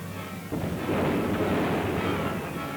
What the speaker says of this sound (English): and a hailstorm swept in from the west.